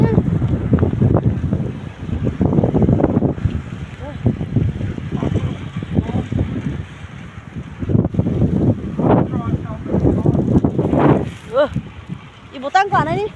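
Strong gale wind roars and buffets the microphone during a Maine blizzard outdoors in the snow. The gusts are loud and continuous, and people speak intermittently through them.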